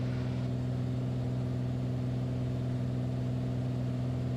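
Steady drone of a light aircraft engine running level at 4,000 feet on an ILS approach to Seattle's Boeing Field, runway 14R, a constant low hum with no talk.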